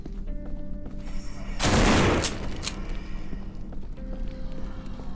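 A lever-action rifle fired in No More Room in Hell, one loud close blast with a short ringing tail, set against a steady low game ambience.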